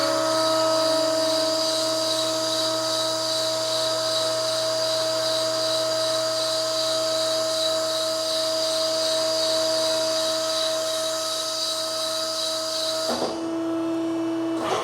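A hydraulic mandrel bender at a custom shop bends a car frame rail, giving a steady, loud whine with tonal hum that holds for about thirteen seconds, then shifts abruptly near the end as the machine changes state.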